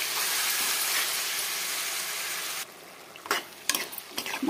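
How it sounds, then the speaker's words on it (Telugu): Mutton frying in a pan over a medium flame, a loud dense sizzle that suddenly drops quieter partway through, followed by a few sharp stirring scrapes and clanks against the pan. "ఈ మటన్ ఇలాగా 10 మినిట్స్ వరకు మీడియం ఫ్లేమ్లో పెట్టుకుని వేగనివ్వాలండి."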